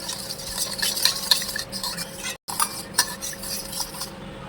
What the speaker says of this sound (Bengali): এখন এই মিশ্রণটা ভালো করে গুলিয়ে নেব